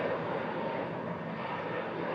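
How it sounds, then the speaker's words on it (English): An Air Transat A321neo jet departs for Toronto, its engines producing a steady broadband roar heard at a distance, continuous and unbroken with no voices. "Air Transat A321 Neo departing back to Toronto"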